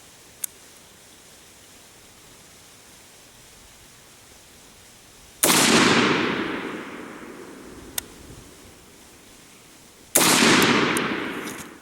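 Two loud AR-15 rifle shots, about five seconds apart, each a sharp blast followed by a long reverberating tail, with small clicks in between, outdoors.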